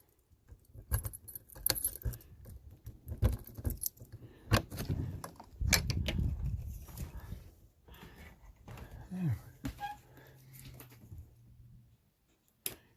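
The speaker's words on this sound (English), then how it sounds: "So let's unlock this thing and we'll go inside." Keys jangle and rattle in a lock while an RV trailer door is unlocked, with close, irregular metallic clinks, shuffling and a few soft knocks over about thirteen seconds.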